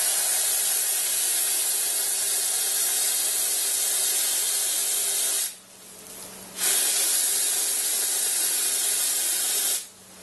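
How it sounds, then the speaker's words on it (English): A steady, loud aerosol spray hisses continuously into a failing NuTone IMA4406 intercom, stops briefly for about a second, then resumes before cutting off again near the end. "So let's free spray it one more time."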